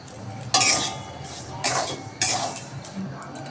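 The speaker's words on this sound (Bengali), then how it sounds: "আমি কড়াইতে সুজিটা দিয়ে দিচ্ছি।" Semolina goes into a wok and is stirred, giving three scraping, rattling strokes of a spoon against the metal pan, close by with quiet gaps between them.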